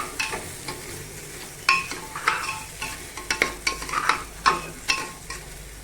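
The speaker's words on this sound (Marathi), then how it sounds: "हा खोबऱ्याचा चव याच्यात घातला हा सुद्धा ह्या तुपामध्ये थोडासा परतून घ्यायचा" Grated coconut sautéed in ghee inside a pressure cooker is stirred briskly, with repeated scraping strokes against the metal over a light sizzle, close and free of speech.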